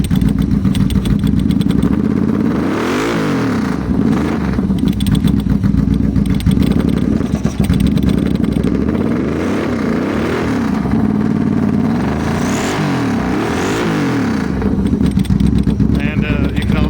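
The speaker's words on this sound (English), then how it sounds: "You'll notice the metallic sounds coming from the slides on the carburetors there." Custom 2001 Yamaha V-Max motorcycle engine running loud and steady at close range, with revs rising and falling in repeated swells and a light metallic clinking from the carburetor slides mixed into the roar.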